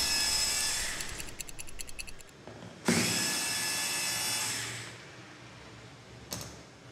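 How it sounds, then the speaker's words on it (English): A power screwdriver whirs close up, backing out two screws from an RS800 brake lever. Two strong buzzing bursts follow each other, then a short click at the end. "then remove the two screws."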